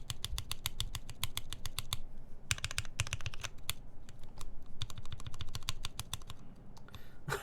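Rapid close typing on a computer keyboard, dense clattering keystrokes in bursts with brief pauses, steady and fairly quiet.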